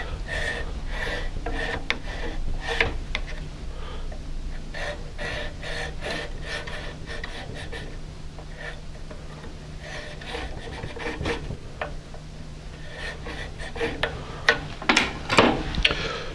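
A modified toothed knife saws through a miniature wood part, giving a run of fine, dry rasping strokes and small ticks, fairly close, with louder, sharper strokes near the end.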